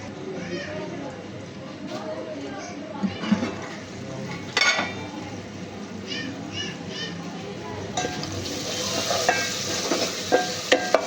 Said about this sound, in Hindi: वाह मसाला भुन रहा है भिंडी का अच्छी तरह।